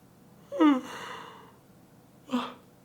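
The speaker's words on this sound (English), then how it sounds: "Excuse me for the yawns" A person yawning late at night, one drawn-out vocal yawn with a falling breathy moan, then a shorter second breathy exhale, close to the microphone in a quiet room.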